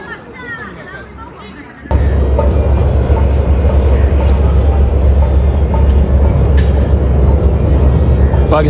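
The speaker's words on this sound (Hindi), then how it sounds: "Watch the beautiful action of the generator off Pakistan railway with a sweet whistling." Pakistan Railways GMU15 diesel locomotive rolling past with an empty rake, a sudden loud surge of heavy rumbling and wheel noise after a quieter start, with brief high whistle-like tones on top.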